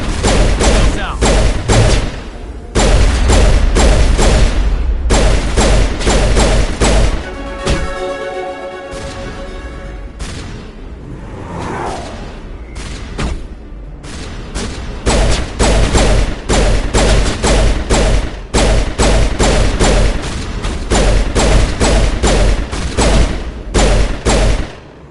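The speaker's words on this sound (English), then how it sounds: "Those are shots." Rapid gunfire from the video game Mass Effect 1 on PS4: dense bursts of loud, close shots and thuds almost throughout, with a brief lull partway through, and faint voices in the background.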